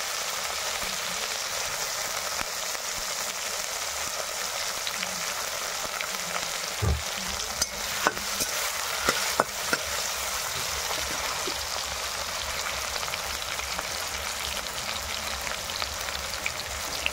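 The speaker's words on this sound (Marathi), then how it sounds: "टमाटर भाजले चांगलं तेलात होतं." Tomatoes frying in oil with bitter gourd and a little turmeric, a steady close sizzle throughout with a few sharp clinks of stirring near the middle, no voices.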